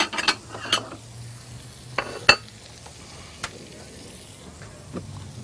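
Meat browning with onions in a pan gives a soft, low sizzle, broken by a few sharp clinks and scrapes of a utensil against the pan.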